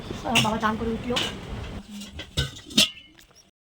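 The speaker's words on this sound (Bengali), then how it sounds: "তোমাদের দাদা বাসন টাসনগুলো একটু গুছিয়ে রাখছে যেগুলো মেজে ঘষে রাখা ছিল" Washed pots, pans and utensils clatter as they are stacked and put away in a home kitchen, bright metallic clinks and knocks scattered over a few seconds, with someone talking over the first half.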